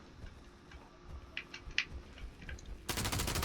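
Hip-fired gun in the video game Fallout 76: a few faint clicks and shots early on, then a loud sustained burst of rapid gunfire at the end.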